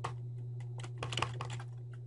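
Keys clatter on a computer keyboard in short bursts, a handful of quick taps clustered in the middle, close and fairly quiet over a steady low electrical hum.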